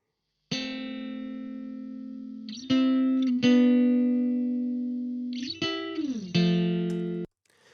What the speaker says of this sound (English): Just to give you an example of these clean guitars,